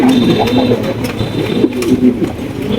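Andalusian pigeons cooing close by in a pigeon loft, low rolling coos repeating steadily, with a faint voice in the background.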